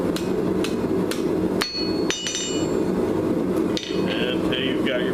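Hammer blows ring out on the curved horn of an anvil while a blacksmith forges a finial on an S-hook, a few sharp metallic strikes with ringing tails over a steady background hum.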